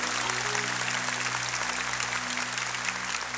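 A church congregation applauds in a dense, steady wash of clapping that carries on throughout without a break, with no voices standing out.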